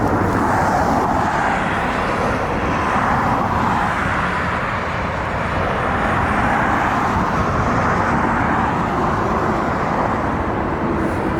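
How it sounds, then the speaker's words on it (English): Asiana Airlines Airbus A380-800 arriving from Seoul on short final, a steady loud broadband jet engine roar that holds throughout, with no talk. "Asiana Airlines coming in from Seoul, Korea, A380-800."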